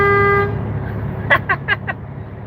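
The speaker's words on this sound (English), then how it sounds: "That's the air horn." An air horn gives one loud, steady blast of about half a second, then cuts off, followed by a few short bursts of a voice nearby.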